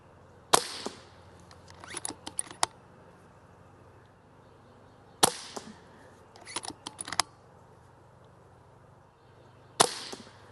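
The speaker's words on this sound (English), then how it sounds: "Let's do one more shot string. 5-shot string onto the right." Brocock Compatto XR .22 air rifle fired several times in a shot string, each crisp snapping report spaced seconds apart, close-up with quieter clicks of cocking and handling in between.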